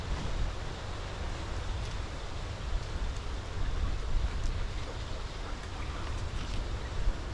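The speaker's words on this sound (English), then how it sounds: "The wind is getting out of control." Strong wind blows across an open outdoor spot in Hawaii during a catch-and-cook meal. A constant, loud, rumbling buffeting roars continuously with no pauses or talking.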